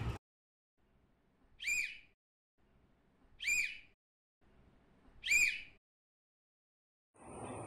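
Three short, shrill toots from a child's whistle used in a breathing exercise, evenly spaced with quiet gaps between, close and clear, followed by a brief breathy blow at the end.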